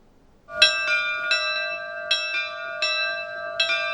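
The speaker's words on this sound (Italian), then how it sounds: "Si diffonde nella sera del Sile il suono delle campane di questa chiesetta di campagna alle porte di Treviso." Church bells of a small country chapel on the outskirts of Treviso ring out in the evening, struck about six times in a steady, measured rhythm with long ringing tones that hang between strokes.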